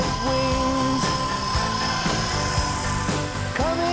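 Small radio-controlled helicopter hovering nearby, a steady buzzing whine from the rotor and motor with repeated pitch dips and swells as the pilot practises holding its orientation.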